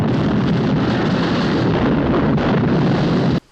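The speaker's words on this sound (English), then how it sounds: "the explosion caused by gas killed him." Gas explosion in a film scene, a continuous loud, rumbling roar that holds steady for over three seconds before cutting off abruptly.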